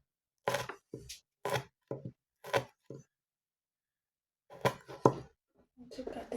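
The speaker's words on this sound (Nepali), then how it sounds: "हामीले खुर्सानी काट्छ।" A knife chopping chili peppers on a board: crisp, close cuts in an uneven rhythm, a run of about seven chops, a pause, then another quick burst with a short bit of talk.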